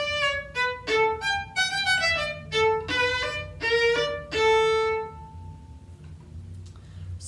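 A violin plays the opening of the third movement of Seitz Concerto No. 5, crisp detached notes in a lively rhythm ending on a held note, close and alone, followed by quiet room noise.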